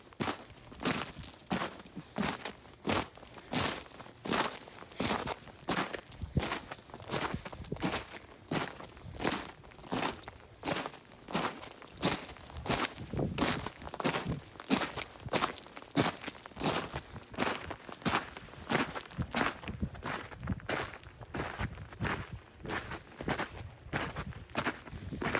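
Steady rhythmic footsteps crunching over icy, crusted snow in a neighborhood after a snowstorm, each step a sharp close crackle repeating at walking pace for the whole stretch, with no talking.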